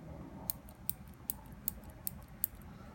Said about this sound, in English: The pencil has a really nice click action to it, but it's a very short throw.